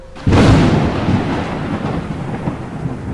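A thunder and rain effect in a narrated story: a sudden loud crack of thunder breaks in and rolls into a long, heavy rumble over steady rain.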